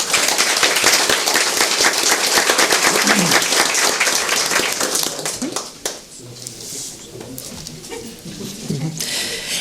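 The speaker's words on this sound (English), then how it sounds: "let's clap for these amazing intermediate kiddos" Audience at a school board meeting applauding intermediate student award winners, a dense burst of clapping that thins out midway and trails off into scattered claps and murmuring.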